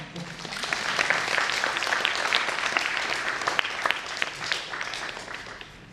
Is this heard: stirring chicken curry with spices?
no